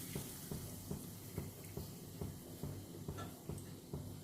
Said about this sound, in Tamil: நல்லா காஞ்ச எண்ணெயை நம்ம ஊற்றிக்கலாம்